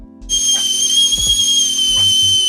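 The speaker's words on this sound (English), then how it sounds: "it's the sound of hot water boiling" Kettle on the stove whistles as its water comes to a boil, a shrill, steady high tone that starts abruptly and holds, with faint clatter and knocks beneath it.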